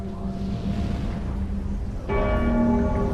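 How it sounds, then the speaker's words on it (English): A large bell in the Dark Souls video game strikes suddenly after a lever is pulled, ringing out loud with a long sustained metallic tone over a low rumbling ambient backdrop. "And with that it rings the bell"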